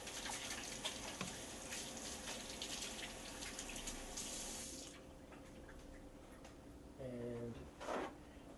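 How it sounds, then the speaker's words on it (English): Tap water runs steadily into a kitchen sink during handwashing with soap while cooking keto chicken parm, a continuous close rush that stops partway before brief clattering and a short gush. "now I have to go over and clean my hands with the soap"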